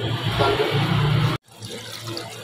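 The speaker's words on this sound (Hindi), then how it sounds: "सारे दूध को हम छान लेंगे इस छाननी से" Milk curds for homemade mozzarella being poured and strained through a kitchen sieve, a steady close splashing pour that cuts off abruptly, followed by softer dripping and trickling liquid.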